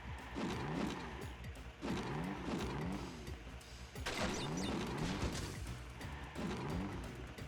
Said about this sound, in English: Every time you hear the engine, that's me pressing the A button.